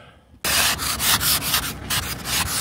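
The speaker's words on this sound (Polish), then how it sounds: "skrobaczkę trzeba poskrobać trochę" Scraper dragged in quick, rough, repeated strokes for a car, starting abruptly and continuing in loud, close rasping passes with no voices.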